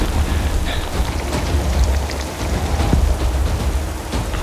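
Heavy rain pours steadily in the Lake District fells, a dense, loud hiss of drops striking close surfaces with low rumbling wind buffeting underneath, continuous for the whole stretch and no talking.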